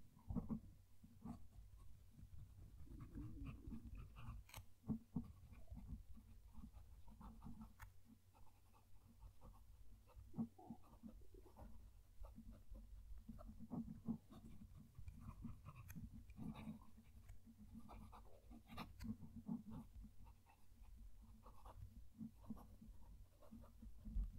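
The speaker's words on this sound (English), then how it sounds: "I'm going to move the mic down to the page so you can hear the pen writing." A Pilot E95s or Waterman Carene fountain pen nib scratches across paper close to the mic, a soft, continuous scritching with small ticks at letter strokes, faint and steady throughout.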